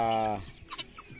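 Turkeys, guinea fowl and Joloano chickens fed rice on a farm: one clear drawn-out cluck opens, followed by softer, scattered bird calls and faint pecking noises.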